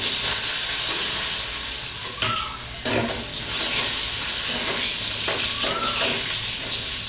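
Cut green mango pieces drop into a hot mustard-seed tempering for a sour green mango dal, setting off a loud, steady sizzle and hiss. A few brief bursts and stirring scrapes rise over it, with no talking.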